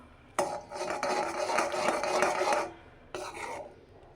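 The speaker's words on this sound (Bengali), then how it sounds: "দিয়ে ভালো করে নাড়াচাড়া করতে হবে" Milk powder stirred into milk for kheer in a pot: a long rasping, scraping stir of about two seconds, a pause, then a shorter second stroke, close and alone.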